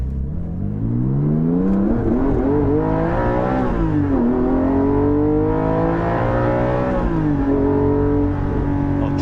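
Porsche 718 GT4 with a Soul exhaust heard from inside the cabin, the engine revving up and down in several loud rising and falling sweeps, no talking.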